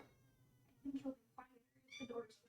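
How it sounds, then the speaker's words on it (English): A cat meows twice in quick succession, then again a moment later, fairly close, with a brief low voice murmuring in between. "He meows unless I'm holding him."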